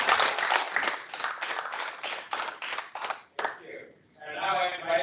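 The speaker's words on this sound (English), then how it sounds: "This is my host, so please another round of applause." A small audience at a training workshop in Malawi claps for the host, a few seconds of fairly rhythmic, unison clapping near the listener that thins out and gives way to a voice.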